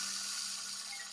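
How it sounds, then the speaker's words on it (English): Water pours steadily into a pot of soaked corn being prepared for mushroom liquid culture, a brief, close, continuous splashing rush with no voices. "what we're gonna do is just gonna add a little bit more water here"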